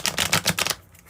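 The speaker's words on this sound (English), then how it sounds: "Get another shuffle here." A quick burst of rapid flapping and riffling as tarot cards are shuffled close by, lasting under a second before going quiet.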